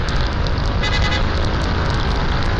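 A vehicle horn toots in short repeated blasts over a steady, reverberant road rumble inside the enclosed Kaybiang Tunnel.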